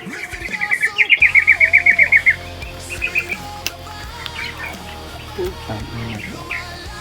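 Birds chirp in a quick run of sharp, rapid tweets, then shorter scattered calls, over a low steady background hum.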